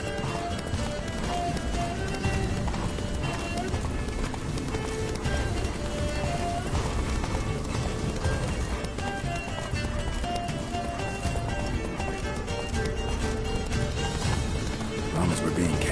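Geralt's horse Roach gallops in The Witcher 3: Blood and Wine, a steady clip-clop of hooves running continuously beneath dense music and game sound, with voices talking over it.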